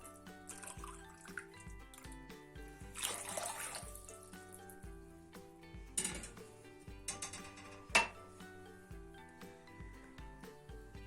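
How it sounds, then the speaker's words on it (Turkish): Warm water pours and splashes into a deep bowl in a home kitchen, a faint, uneven trickle with soft sloshing bursts beneath quiet background music. "3 su bardağı elimiz yanmayacak kadar ılıttım suyumuzu derin bir kabımızın içine alalım."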